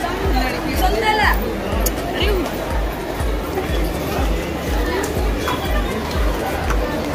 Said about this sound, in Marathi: तर आज रक्षाबंधन असल्यामुळे आज गर्दी आहे भरपूर